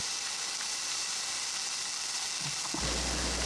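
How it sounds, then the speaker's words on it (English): Tomato paste, cumin and other spices sizzling in hot oil in a pan, a steady bright frying hiss, joined near the end by a low hum. "We're going to let these cook in the oil for a minute."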